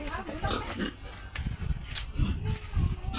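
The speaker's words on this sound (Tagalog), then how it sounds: "Ari ang mga baboy nga mga alaga." Pigs kept in a pen grunt and oink repeatedly, close and loud, mixed with snorts and shuffling as a person talks over them.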